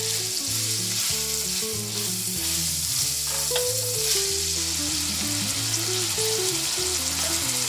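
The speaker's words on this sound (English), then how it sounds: "Add the garlic and the green pepper. Stir and let simmer until the peppers begin to soften." Garlic and green pepper fry in a pan with a continuous bright sizzle, while a utensil scrapes and stirs through them in repeated strokes, close up and steady throughout.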